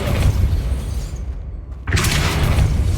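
The Depulso force spell is cast in Hogwarts Legacy, a loud booming magical blast with a sudden drop to near silence midway before another heavy burst returns.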